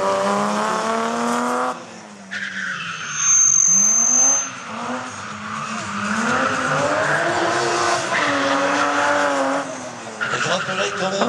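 A big-engined BMW race car, driven by Benjamin Blandamour, revs hard and skids with squealing tyres through several rising and falling engine passes, loud and close, while a commentator talks over it.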